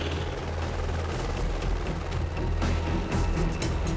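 A rescue helicopter hovers low over a swelling torrent of mud during a flood rescue, its rotor a loud, steady thumping drone that fills the whole stretch without a break.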